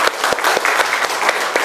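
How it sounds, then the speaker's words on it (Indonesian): Applause in a classroom after group presentations in an Islamic jurisprudence lesson, a brisk continuous clatter of many hands clapping, close and fairly loud, with no talk over it. "Tepuk tangan untuk kita semua."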